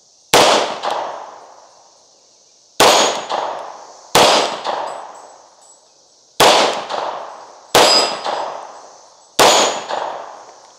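A Tisas B9R double-stack 1911 pistol fires six loud, sharp shots, each spaced one to three seconds apart and followed by a short decaying echo, heard nearby outdoors.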